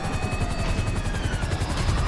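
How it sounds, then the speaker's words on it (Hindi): A helicopter in the GTA V video game thumps with fast, steady rotor chop and a whining engine, loud and continuous, with no talking. "अरे इस हेलीकॉप्टर को भी देखते हैं पहले"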